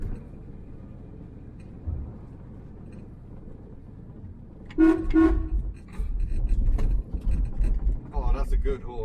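A Triumph Mayflower's horn gives two short, close, clear honks, followed by people talking and car noise after the blasts.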